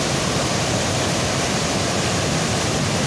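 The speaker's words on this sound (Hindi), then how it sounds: "देखें किस तरह से दूध की तरह ये पानी बहता हुआ।" Water pours steadily at Ghogad waterfall on the Kalisindh River, a loud, continuous broadband roar with no breaks, close by and with no other sounds.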